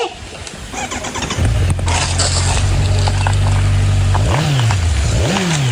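A Kawasaki Ninja 1000cc sport motorcycle engine cranks and catches, settling into a loud, steady idle close by, then revs up twice in quick throttle blips.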